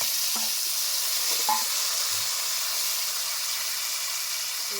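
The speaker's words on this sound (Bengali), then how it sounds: "মাছ ভাজা তেলে আমি সবজিগুলিকে হালকা ভেজে নেব।" Vegetables lightly frying in mustard oil left over from frying fish, a steady close hissing sizzle with a few faint clinks of stirring, no talking.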